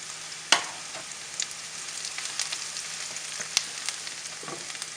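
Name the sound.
curry leaves sizzling in hot oil with browning onions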